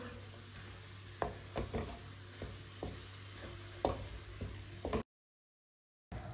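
Eggplant and pea curry being stirred after garam masala and chopped coriander go in: repeated spoon scrapes and clacks against the pan over a soft sizzle, fairly quiet and close, ending in a brief silence.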